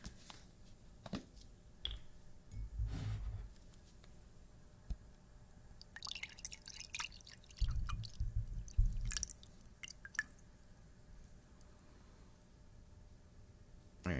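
Water dripping and trickling in scattered, close-up bursts, with quiet gaps between splashes and a few louder wet spurts.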